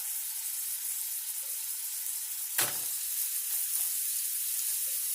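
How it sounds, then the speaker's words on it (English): Spiced pork patties frying in hot oil give a steady, close, loud sizzle throughout, with one brief sharper burst as a patty hits or is moved in the pan. "once that oil's nice and hot, we're going to go ahead and add our patties"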